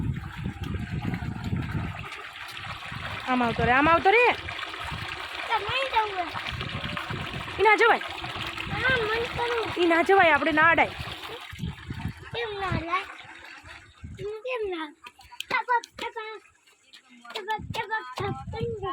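Water gushes and splashes steadily from a borewell in a cucumber field, with people talking and calling out over the flow.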